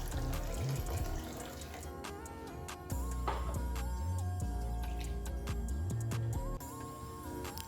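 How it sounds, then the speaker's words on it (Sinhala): Sweet potatoes are washed under a running kitchen tap, with steady water flow and occasional clinks and knocks of handling nearby. "ඊට පස්සේ මම බතල ටික හොඳින් හොදලා පිරිසිදු කරගත්තේ."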